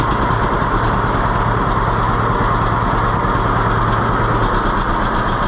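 A small carburetted engine runs steadily just after starting, a loud, constant, rough drone at close range with no pauses or speech.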